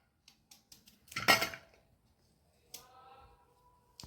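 Knife chopping two sweet potatoes into small pieces for farali dhokla, with scattered light taps against a board or plate, a louder clattering cluster in the middle and a few later knocks, under quiet surroundings.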